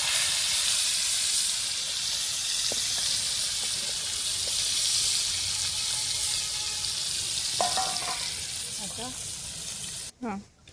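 Fish (chilapi) frying on a hot griddle, a steady loud sizzle with hissing steam running throughout, with a few brief clinks and a short voice near the end.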